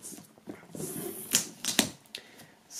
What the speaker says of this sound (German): Als erstes werden wir mal die Folie entfernen.